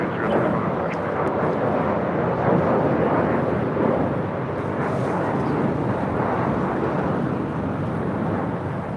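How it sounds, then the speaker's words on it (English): An Emirates Airbus A380, flight 216, taking off at LAX: a loud, sustained broadband roar of jet engines heard from outside, steady with slight surges, mixed with wind buffeting on the microphone. "now we have the Emirates A380 flight 216 getting ready to take off"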